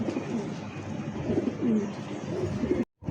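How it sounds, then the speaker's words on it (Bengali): Belgian satin pigeons cooing close by, a pair giving repeated low throaty coos in a steady rolling rhythm, ending in a sudden brief cut of silence. "খুবই সুন্দর একটা জোড়া কবুতর দেখেন"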